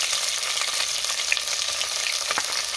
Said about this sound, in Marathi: आता ह्यामध्ये आपण कांदा घालूया.